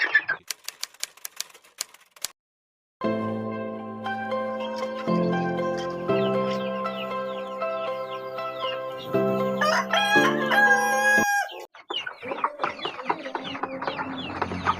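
A rooster crows with a long, wavering call among clucking chickens, after a burst of sharp clicking; the birds sound close and fairly loud.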